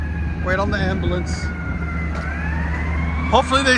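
An ambulance siren wails nearby, rising and falling sweeps over steady traffic rumble and engine noise.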